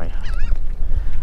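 Geese honk loudly and close by in a marsh at very high tide, a dense overlapping chorus of nasal calls over a windy rumble, with no talk.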